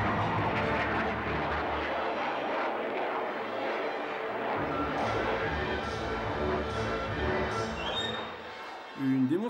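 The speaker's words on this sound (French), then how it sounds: "Une démonstration en vol très intéressante fut effectuée par un appareil en solo." A MiG-29 jet fighter flying a solo display roars continuously, a dense rumbling engine wash heard at a distance with a rising whine near the end, while a voice talks over it.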